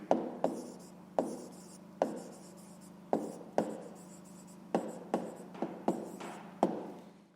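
Pen writing by hand on paper while working a fifth-grade fraction addition exercise: a run of about a dozen short, crisp scratching strokes in an irregular rhythm, close and fairly quiet, with no talk.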